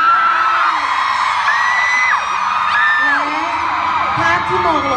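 Screaming and cheering from a fan meeting crowd in Bangkok, a dense roar with rising whoops and shrieks that swells and falls continuously for the whole stretch, loud and close.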